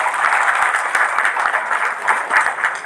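Seminar audience claps for their captain, a loud, continuous crowd applause with a slightly pulsing, rhythmic texture of many hands striking together.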